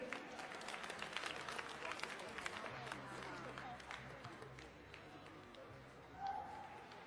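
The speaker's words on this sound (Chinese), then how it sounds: "掌声有请。" Spectators applaud as the referee walks out at a professional snooker match at the China Open, a soft, steady patter of clapping in a large hall, fairly distant and under a voice talking.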